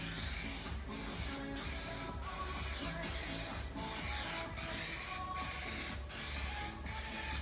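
A rattle can sprays paint during drift car prep inside a hot factory, in short, steady bursts of close, hissing spray about every three quarters of a second, separated by brief pauses.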